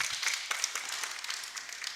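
A church congregation claps their hands together, a fairly faint, continuous patter of many overlapping claps with a few sharper hits standing out, and no voices over it.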